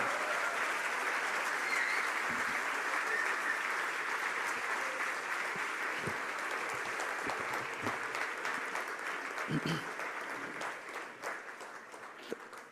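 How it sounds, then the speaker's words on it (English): A conference audience at a global leadership forum applauds as Gurudev Sri Sri Ravi Shankar is introduced, a broad, sustained roar of clapping that stays full for most of its length before gradually thinning toward the end. "Thank you so much for applauding even before I start beginning this talk"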